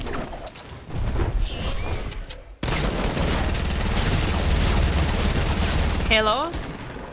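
Pump shotgun blasts and dense gunfire in a Fortnite Battle Royale duos-versus-squads match, loud and continuous for most of the stretch, with players talking over the shooting.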